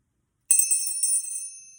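A small bell rung once during an energy cleansing ritual, a bright metallic strike with a few quick jingling repeats that ring on and fade slowly, clear and close.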